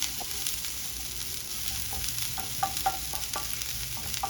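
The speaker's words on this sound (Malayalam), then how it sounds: "ഇത് നന്നായിട്ടൊന്ന് മിക്സ് ചെയ്യാം" Cabbage stir-fry with coriander being stirred in a non-stick pan, a soft steady sizzle with repeated light spatula scrapes and taps, close and alone.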